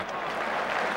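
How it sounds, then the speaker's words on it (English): Brief, steady applause from a cricket crowd at Lord's during an England v India Test match, a dense wash of clapping heard from a distance with no voices over it. "Applause from Lamb at the non-striker's end."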